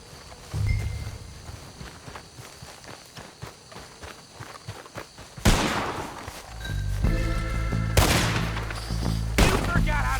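Gunfire in the video game Red Dead Redemption 2 during a fight with Lemoyne Raiders: footsteps and scattered shots early, then loud sharp bursts of rapid fire in the second half, with brief shouted voices mixed in.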